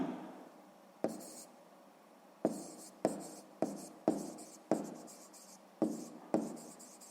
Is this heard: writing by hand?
yes